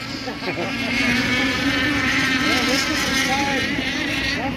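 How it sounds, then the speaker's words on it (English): RC nitro racing boat with an M5 Performance Merlin engine: a continuous high-pitched buzzing engine whine with shifting pitch, mixed with wind and water noise, and voices heard underneath. "that's your M5 Performance Merlin engine"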